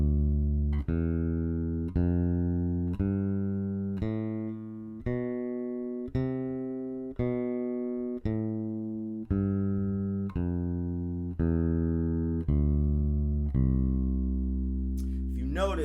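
A bass guitar plays a scale very slowly, one deliberate note about every 1.3 seconds with alternating fingers, each note clear and sustained, thirteen notes in steady rhythm with no talking.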